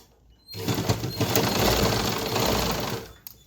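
Sewing machine running steadily while stitching a blouse side seam, a dense continuous whirr of needle strokes lasting about three seconds, fairly close, starting after a brief quiet pause and stopping near the end.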